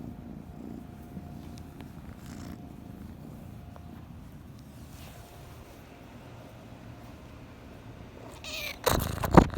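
A house cat purrs in a soft, steady low rumble close by, with faint background hum, ending in a brief louder rustle or bump.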